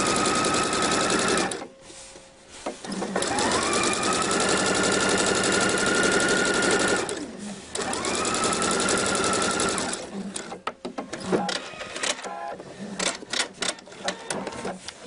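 A home sewing machine runs long, steady whirring stretches while topstitching raglan seams on a hoodie, pausing twice briefly before finishing in short stop-start bursts of stitching.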